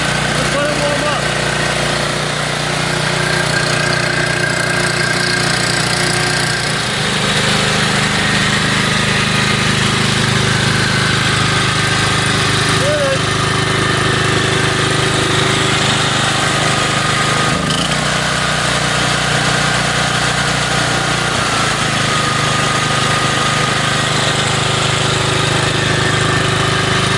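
A small engine idles steadily after a cold start, warming up with a constant close drone and light mechanical rattle for the whole stretch; a few faint sounds drift in but no one speaks.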